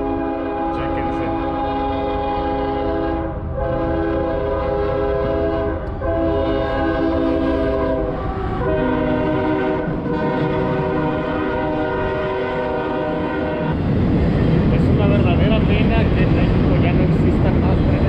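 A train at a train museum park in Aguascalientes passes with sustained horn-like tones and rumbling rail noise, turning to a louder, rougher clatter near the end.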